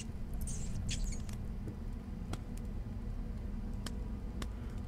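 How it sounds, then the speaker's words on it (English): Rat or mouse scurrying inside the horror video game Layers of Fear, heard as faint scattered patters and small high scratches above a steady low rumble and fire crackle. "Okay, that was like a rat."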